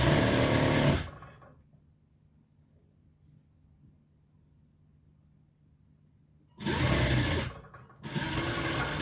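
A sewing machine stitching a kameez runs in loud, fast bursts, with a short run at the start, a long quiet gap, and then two more close-up bursts near the end.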